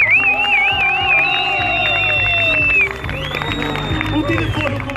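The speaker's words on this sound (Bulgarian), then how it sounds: "моля раздайте малко аплодисменти" Crowd applause and cheering at a car beauty show during a BMW car meet, with scattered clapping and whistles mixed into loud crowd noise, and people talking over it throughout.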